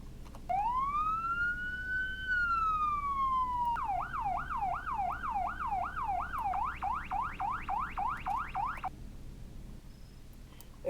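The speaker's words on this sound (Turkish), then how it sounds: "polis arabalarındaki bütün sirenler aynı" A Roblox police car siren in the game Greenville wails in one long rising-and-falling sweep, then switches to a fast, repeating yelp that cycles steadily before cutting off.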